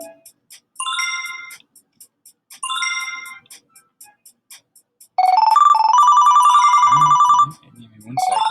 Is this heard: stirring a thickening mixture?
no